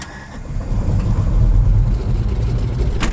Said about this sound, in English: The unmistakable sound of the classic rotary engine is recognized the world over.